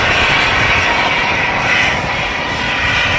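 An EasyJet Airbus A320neo jet airliner roars close by at Manchester Airport, a loud, steady broadband engine rush holding level across the whole stretch with no voices.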